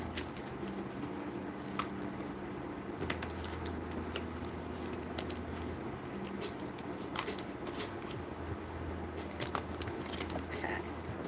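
Tarot cards are shuffled repeatedly, giving soft riffling and crisp flicks near the microphone, with a low hum underneath and no talking.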